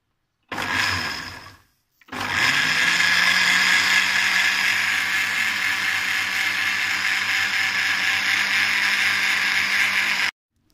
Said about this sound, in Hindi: अब हम इसे पीस लेंगे अच्छे से।